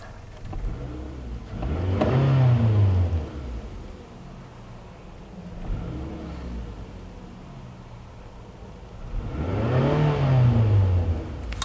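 A 2009 Toyota Camry LE with the 2.4L engine, idling and revving on quick throttle taps: two clear rising and falling revs with a quieter blip between, heard from inside the car without talk.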